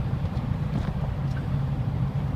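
An E46 BMW M3 being driven gives off a low, steady engine drone and road rumble, heard close up from inside the car with no speech.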